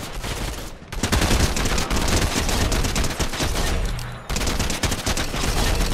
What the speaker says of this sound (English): I fucking hear your gunshots, bro.